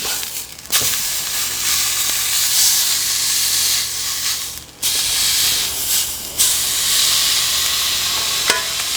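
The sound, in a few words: meat searing in a hot pan, turned on all sides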